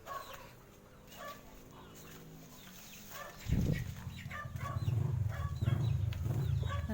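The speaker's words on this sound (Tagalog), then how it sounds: "Ayan yung alaga naming manok." A pet chicken with a featherless neck clucks in a backyard, low throaty calls building after a quiet start and continuing steadily and close by over faint background noise.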